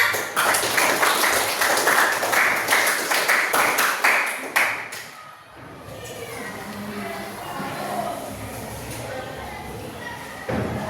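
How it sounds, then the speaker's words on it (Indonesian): A classroom group claps together in a brisk, fairly close burst of applause for about five seconds, then it stops and gives way to quieter room noise with voices talking. "Nah, tepuk tangannya."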